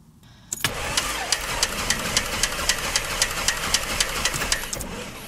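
A light aircraft engine with magnetos cranks over on the starter after a quiet opening, a sharp onset followed by a steady run of regular clicking pulses over the loud engine churn.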